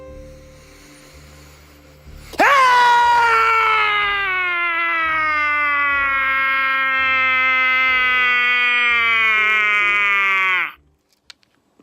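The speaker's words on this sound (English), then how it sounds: "She then posted a short clip of herself shrieking out in frustration." A woman's loud, sustained shriek of frustration, a single harmonic-rich cry rising sharply and held steadily for about eight seconds before cutting off, heard alone over a faint low hum with no talk.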